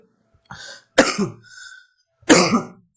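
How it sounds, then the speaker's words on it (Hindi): A few sharp coughs from a nearby person, a short one followed by two louder bursts with pauses between them. "थोड़ा सा खांसी आ जा रहा है।"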